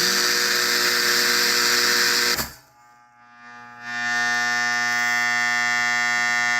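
A loud, steady electric buzzing from an old Fascination arcade game table system drones, cuts out abruptly into near silence for over a second, then resumes at full strength.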